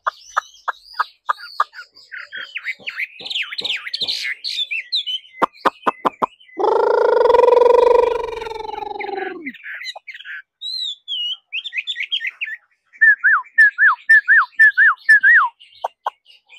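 A young hwamei songbird sings in bursts of varied whistles, trills and chattering phrases, close and clear, with a longer rich warbling passage in the middle and short pauses between phrases.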